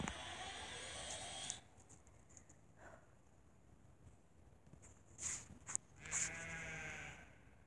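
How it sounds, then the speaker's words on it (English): Faint sheep bleats sound a few times against a quiet background, with a couple of brief higher bursts near the end. "Sorry about the sheep."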